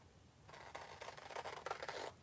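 Transfer trimmer scissors snip along a chalk transfer sheet in a craft session, a run of soft, close, crisp cutting and scraping strokes, quiet and with no talk.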